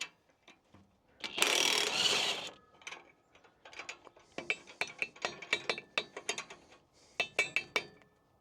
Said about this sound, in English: We're just going to take these 2 bolts out.